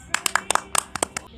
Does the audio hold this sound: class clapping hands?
yes